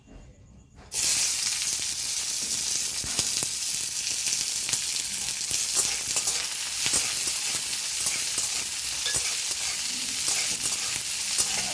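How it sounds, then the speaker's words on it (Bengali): Chopped onion hits hot mustard oil in a kadai, bursting into a loud, sustained sizzle and hiss right after a brief quiet moment, crackling steadily and close up with no voices. "তেল গরম হয়ে গেছে, এর মধ্যে দেব আমি পেঁয়াজ কুচি।"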